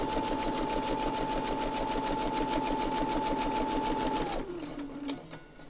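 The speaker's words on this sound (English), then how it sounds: "I'm just sewing straight lines." A sewing machine runs steadily in a straight-line stitching pass, its motor humming with a rapid even clatter for about four seconds before slowing and winding down near the end.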